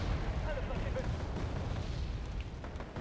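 Artillery fire in the strategy game Wargame: Airland Battle rumbles as a continuous muffled barrage of distant booms. It stays fairly quiet and dense for the whole few seconds.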